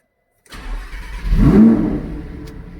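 A 2020 Lamborghini Huracan EVO engine cranks and fires after a moment of silence, then swells into a loud, close rev before settling toward idle.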